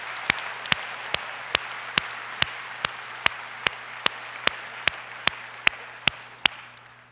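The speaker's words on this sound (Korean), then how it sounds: "다시 한번 영광의 박수 올려드리도록" A congregation at a Sunday church service claps in a steady stream of evenly spaced, sharp claps, about two per second, over a soft bed of room noise, with a low hum underneath.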